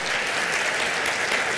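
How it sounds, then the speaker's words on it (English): Steady, dense audience applause at a global business forum fills the space with continuous clapping from a large crowd, loud and even throughout with no pauses or voices standing out. "applause."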